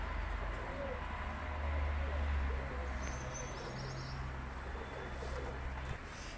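A female Indian red-headed pigeon coos softly in a Lahore pigeon-selling setting, low droning coos swelling and fading beneath faint background chatter and ambient noise.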